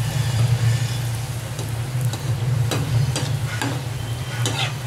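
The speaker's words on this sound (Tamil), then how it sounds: "இப்போ பூரியும் சுட்டு எடுத்துக்கலாம்." Poori frying in hot oil beside a potato kurma, a steady close sizzle and bubbling throughout, with several brief clinks and stirring scrapes breaking through.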